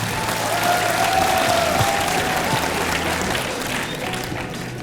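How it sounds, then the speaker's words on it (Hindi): Loud applause from a student audience in a university hall during a career development session, continuous clapping with some crowd noise, holding steady before easing slightly toward the end. "इसी बात पे एक बार अपने लिए जोरदार तालियां बजा दो."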